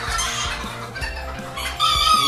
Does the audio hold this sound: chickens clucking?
yes